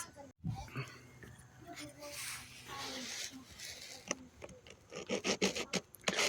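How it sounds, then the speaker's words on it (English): A file rasping down the corners of an RV awning rail, with uneven scraping strokes that speed up into quick, close rhythmic passes toward the end. "Grind these corners down a little bit so they don't rip the new awning when you go to slide her in."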